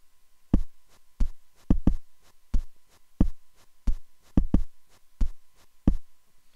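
A drum beat built from toilet paper sound samples plays as a steady, evenly spaced pattern of dull thuds and soft taps, looping cleanly with nothing else in the background.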